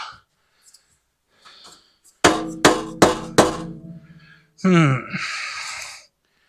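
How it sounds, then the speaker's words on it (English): A small dead blow hammer strikes a seized part on a Gravely Pro-Turn 152 commercial mower four times in an even rhythm, each blow sharp and close. A short voiced grunt follows the last strike. "this little feller here is a dead blow hammer too"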